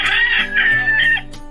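Chickens cluck and a rooster gives a short, loud crow nearby, the calls overlapping in a brief burst.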